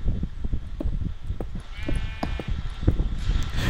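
Sheep bleating in Minecraft during a survival game on lava islands, short nasal bleats mixed among clicks, thuds and other game effects, moderately loud with no talking.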